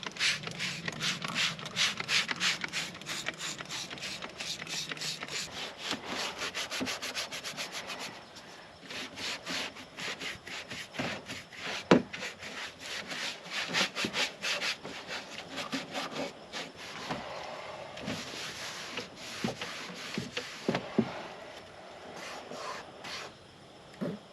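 Rhythmic back-and-forth scrubbing on the interior of a Volkswagen Rabbit with antibacterial cleaner, a close, raspy brushing in quick repeated strokes with brief pauses, steady over long stretches.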